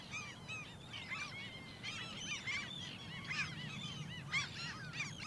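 Canada geese of the lesser parvipes race honk repeatedly at moderate distance around an island near Anchorage, Alaska, with overlapping calls in uneven bursts above a low steady background rumble.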